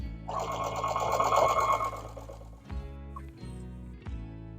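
A sewing machine stitches the binding on a quilt with a steady, rapid whirring run that stops and then restarts in short bursts.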